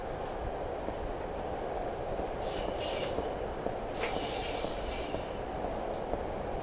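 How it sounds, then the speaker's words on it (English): Continuous rumbling of a subway train riding along the rails in the video game Silent Hill 3, with a couple of high metallic wheel squeals rising above the steady drone. "All right, we're on the train."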